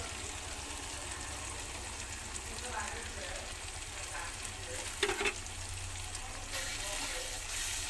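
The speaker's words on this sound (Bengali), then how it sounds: "এবার আবারও আমি ভালোভাবে মশলাটা কষিয়ে নেব" Dry spice masala with ginger-garlic paste sizzles steadily in a pan while being stirred for a country chicken curry, a continuous close frying hiss with a few louder scraping bursts midway.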